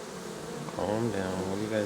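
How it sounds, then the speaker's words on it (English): Honey bees swarming around an opened hive box full of brood, a dense close buzz that swells and wavers as individual bees pass near. "It's buzzing around going in here."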